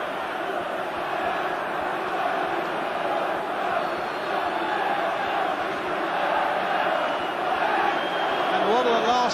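A large football crowd at Newcastle in 1988 jeers and chants at Chris Waddle as he waits to take a corner, a dense, loud, continuous roar of many voices from the stands with a rising swell near the end.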